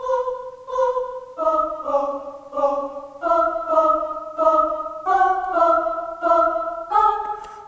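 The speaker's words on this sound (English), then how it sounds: "it sounds like a real choir, but it's in fact all samples" Sampled choir voices sing sustained chords that change in a slow, even pulse, each chord swelling and fading, clear with no other sounds.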